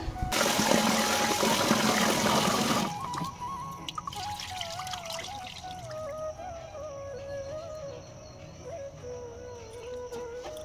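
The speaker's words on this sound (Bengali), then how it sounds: "আমি এই যে দেখো চালটা ধুয়ে দিচ্ছি" Rice is washed under running water, a loud gushing pour for about three seconds followed by quieter trickling and dripping, with a faint tonal hum in the background.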